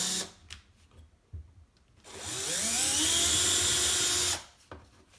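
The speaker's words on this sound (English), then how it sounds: "let's use the drill just a little bit because we don't want to go so super deep" A power drill bores into a door sweep during installation, its motor spinning up in one continuous, close burst of about two seconds that rises in pitch, with quiet handling noises before and after.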